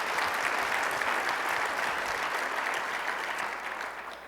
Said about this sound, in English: So you too deserve a round of applause.